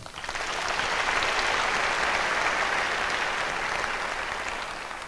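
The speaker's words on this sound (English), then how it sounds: "I want to request all of us to give Wainaina a round of applause." An audience at a university gathering claps in a full, steady round of applause that swells quickly, holds evenly for several seconds and tapers slightly at the end, with no talk over it.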